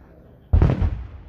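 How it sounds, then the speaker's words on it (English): A single loud firework bang bursts outside at night, a sharp boom with a short rumbling tail, close by and alone. "Who's shooting this fireworks?"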